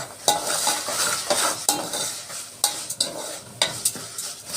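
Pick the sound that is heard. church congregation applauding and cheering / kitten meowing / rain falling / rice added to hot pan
rice added to hot pan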